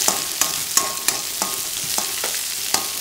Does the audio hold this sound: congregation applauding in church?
no